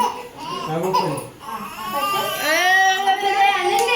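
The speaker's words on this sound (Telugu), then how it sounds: "అందరూ చూసారు కదండి ఎలా ఏడుస్తున్నాడు బాబు" An infant boy cries in a cradle, with close, loud, rising and falling wails that grow more insistent toward the end, mixed with brief babbling sounds.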